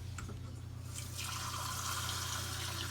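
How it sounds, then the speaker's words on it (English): Water pours into a pot of smothered beef in a tomato base, a faint drip at first, then a soft, steady trickling fill for the last couple of seconds. "A little bit more water."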